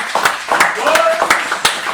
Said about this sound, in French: Une grosse main d'applaudissements encore une fois pour les boys